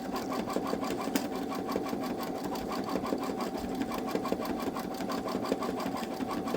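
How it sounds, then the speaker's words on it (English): A Babylock Solaris 3 embroidery machine sews satin stitches around a hooped design, its needle running in a fast, steady mechanical rhythm that stays close and even from start to finish. "put it back in the hoop, and do the last round of satin stitches around the outside."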